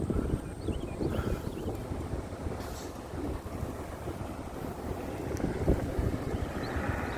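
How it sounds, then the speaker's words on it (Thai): Wind buffeting the microphone while cycling through a neighborhood on a windy day: a continuous, loud, rumbling roar of gusts on the mic that runs throughout without a break, with no talk. "ทางจะได้ยินเสียงลมพี่น้องเด้อเสียงลม"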